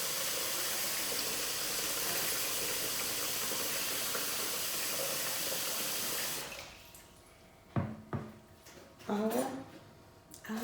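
Water pours steadily from a tap into a container for brining a chicken, a loud continuous splashing rush that stops partway, followed by a few quieter clinks and handling sounds.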